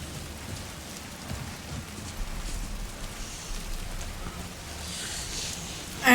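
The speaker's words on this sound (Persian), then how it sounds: "چه بارونی" Steady heavy rain in Alan Wake 2, a dense even patter on surfaces with faint low rumbling beneath and a sudden loud burst at the very end.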